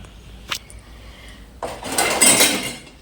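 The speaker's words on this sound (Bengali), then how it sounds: "তার আগে থালাবাটিগুলো গুছিয়ে নিই" Plates and bowls being stacked and arranged in a home kitchen: a single clink, then a louder run of clattering dishes and rattling crockery close by.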